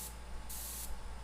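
An airbrush sprays light bursts of paint onto a tribal skull design, giving two short soft hisses with a brief pause between them. No one speaks.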